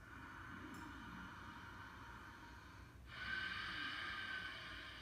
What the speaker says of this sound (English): You can also do the Ujjayi on the in and the out.